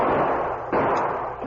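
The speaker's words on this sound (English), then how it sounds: "Doc North breathlessly entered the front door of the office" A door slams as someone bursts into a sheriff's office in an old western radio drama: a single sharp thud cutting through a steady bed of noise, close and fairly loud.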